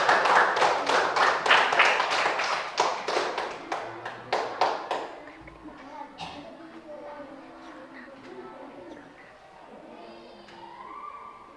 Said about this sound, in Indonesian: Oke, beri tepuk tangan untuk kelompok 1.